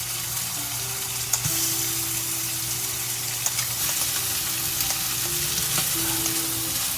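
Steak sizzles and crackles steadily in butter in a hot pan, a constant frying hiss with occasional pops, heard close up without talking.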